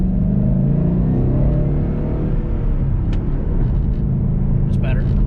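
Loud, sustained engine roar as a sports car, either a Nissan 350Z or a Mustang GT, accelerates hard during a pull, with a dense low rumble throughout and brief higher whines near the end.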